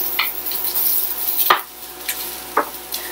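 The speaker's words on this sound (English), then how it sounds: "We're just trying to soften the garlic." Minced garlic fries gently in olive oil with a soft sizzle, broken by several sharp utensil knocks and scrapes against the pan at irregular intervals.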